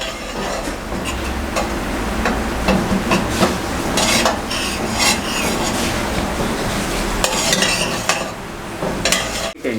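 Rajma masala roasting in a restaurant-style pan with a splash of water added, a dense, steady sizzle and bubbling hiss with stirring scrapes throughout, loud and close with no talk.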